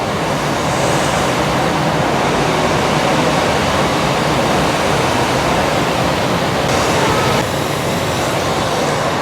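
Waterfall sound effects filling an immersive room at Arte Museum Dubai, a loud dense continuous roar of rushing water with no pauses.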